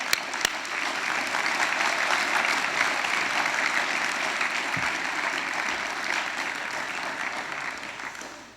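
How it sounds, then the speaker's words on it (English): Graduation ceremony crowd applauds the class of 2020, a broad steady wash of clapping from many hands that holds for several seconds, then fades out. "let's get a big round of applause"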